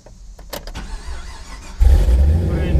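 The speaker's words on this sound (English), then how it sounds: "Go ahead and start it back up again." A car engine, in a vehicle with transmission trouble, being started: a few clicks and a brief cranking, then the engine catches and settles into a loud, steady low idle.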